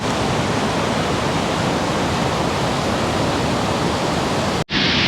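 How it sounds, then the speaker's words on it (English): Dassam Falls in heavy monsoon flow roars as a loud, steady wall of rushing water close by, unbroken for about five seconds before a brief dropout near the end. "the flow is so strong that you're getting water droplets from there up until here on my face"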